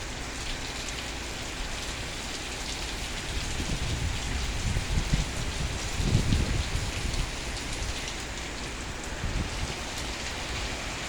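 Very hard rain pours steadily onto roofs and trees, a dense broadband roar that swells in the middle, with a faint low rumble underneath and no voices.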